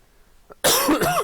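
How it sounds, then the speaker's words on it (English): After a brief quiet moment, a single loud, harsh cough bursts out close by and rasps on for about half a second. "I'm recovering from a cough"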